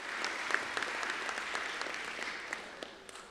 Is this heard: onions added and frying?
no